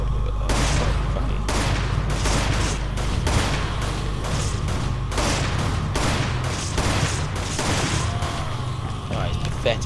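Gunfire in the Resident Evil 5 video game: dense, loud bursts of shots repeat steadily across the whole stretch over a constant low rumble of game ambience, with no pauses between volleys.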